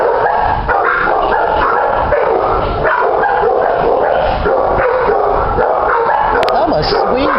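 A shelter dog barks, yips and whimpers excitedly and almost without pause, loud and close, while a person talks over the noise.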